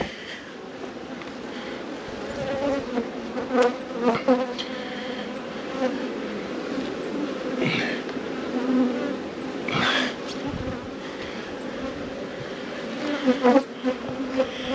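Steady buzzing of many honeybees at an open hive during inspection fills the air, a dense droning hum with occasional louder bees passing close.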